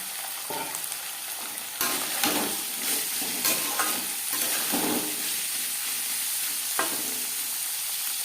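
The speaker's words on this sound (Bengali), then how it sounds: "ভেজে নেব মটরশুঁটি দু তিন ভেজে নেওয়ার পর দিয়ে দেবো গাজর বিন" Peas, carrots and beans frying in oil for vegetable fried rice: a dense, continuous sizzle close by, with occasional stirring scrapes and knocks rising above it.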